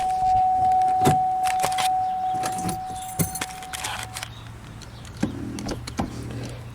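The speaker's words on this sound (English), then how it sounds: "This car's got power seats." Power seat motor in a 2005 Chevrolet Impala humming low and steady for a few seconds as the seat moves, after a thin chime and scattered clicks and rattles inside the car.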